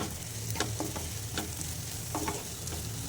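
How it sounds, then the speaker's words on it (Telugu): A fenugreek leaf and moong dal curry is stirred in a pan, a soft sizzle running beneath repeated scraping strokes of a spoon, close up and without speech. "ఒకసారి బాగా కలుపుకొని స్టవ్ ఆఫ్ చేద్దామండి"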